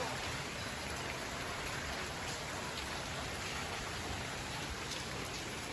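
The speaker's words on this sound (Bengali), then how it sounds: "এই দেখেন বাইরে বৃষ্টি হচ্ছে," Outdoor rain pours in a continuous wash of patter and hiss, steady in level from start to finish with no one speaking.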